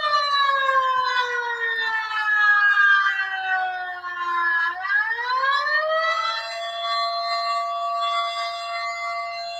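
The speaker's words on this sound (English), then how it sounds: "I was working in the park that day and the tsunami sirens were going off." Tsunami warning sirens on Salt Spring Island wail in a loud, layered, sustained tone that sags in pitch, dips, then climbs back and holds, sounding outdoors with no voices.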